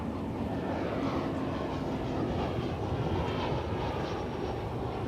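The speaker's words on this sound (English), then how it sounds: "The Delta flight coming in." A Delta airliner on approach to land at DFW airport, its steady broadband jet roar holding level and fairly distant throughout, with no voices.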